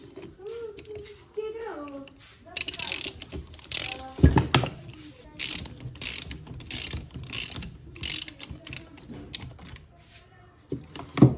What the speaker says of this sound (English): Got two new spark plugs. I can just install them.